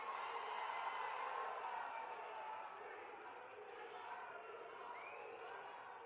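A large public gathering welcoming a state chief minister erupts in a dense, far-off wash of crowd applause and cheering that swells and then slowly settles, with voices mixed in.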